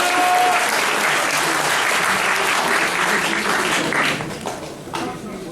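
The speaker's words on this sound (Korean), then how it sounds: "자, 다시 한번 박수로 응원해 주시죠." A packed audience of around 200 in a crowded conference room at a public debate forum breaks into loud, sustained applause, dense and close, thinning out and trailing off toward the end with a few scattered final claps.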